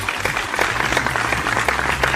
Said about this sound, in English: You hear applause.